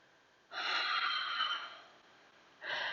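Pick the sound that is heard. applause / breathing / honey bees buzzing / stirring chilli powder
breathing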